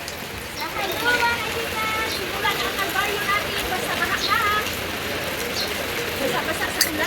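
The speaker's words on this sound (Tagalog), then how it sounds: "Basa-basa sa ulan." Steady rain falls with a dense, hissing patter outdoors, while people talk and call out over it in the background.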